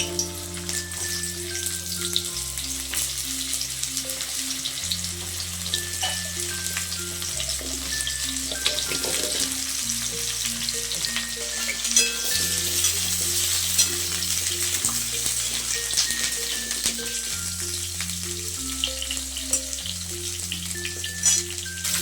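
Steamed cauliflower with salt and turmeric frying in a pan, giving a continuous sizzle with occasional stirring scrapes, steady and close, under a looping background music track.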